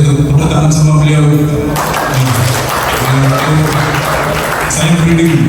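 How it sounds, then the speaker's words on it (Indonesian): Audience applause at a commemorative ceremony, broad and steady clapping that fills the whole stretch, close and loud, with voices and other crowd sound mixed underneath. "Dia dan Bumi Seroyo, tepuk tangan sama beliau."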